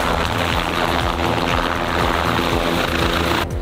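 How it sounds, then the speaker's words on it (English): A Paradise Helicopters helicopter's engine and rotor spin up for takeoff, a loud close mechanical drone with a rapid repeating low thudding pulse, heard steadily without voices. "When those propellers started to go,"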